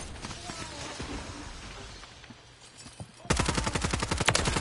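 Close automatic gunfire erupts in Call of Duty Warzone, a loud rapid string of shots after quieter scattered pops and game noise, rattling on steadily to the end.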